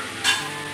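Chopped banana stem and potatoes sizzling in a pan over high heat, with a brief stirring scrape partway through and a steady frying hiss around it.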